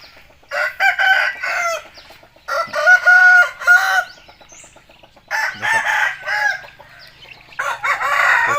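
Chickens and a rooster at a rural Thai poultry keeper's place crow repeatedly in loud, drawn-out calls, four crowing bursts with short pauses between them and clucking in the gaps, close by and with no talking.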